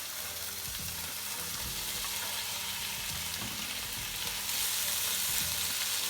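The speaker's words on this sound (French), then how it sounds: "pour colorer nos gnocchis, on va les passer à la poêle" Homemade gnocchi pan-fry in nutty browned butter, giving a constant dense sizzle with faint stirring and clatter from the pan and no voices.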